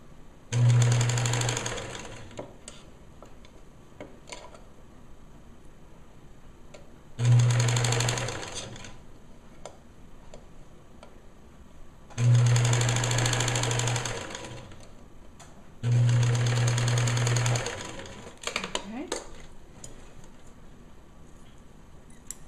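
Sewing machine stitching lace along the front edge of a bereavement gown hat, running in four separate bursts of a couple of seconds each, with quiet handling sounds in the pauses between them.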